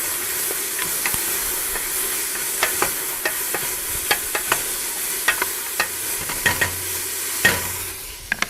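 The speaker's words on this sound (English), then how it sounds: "Give this a stir." Chicken pomodoro cooking in a hot pan, stirred with irregular scraping clicks over a steady, close sizzle and hiss.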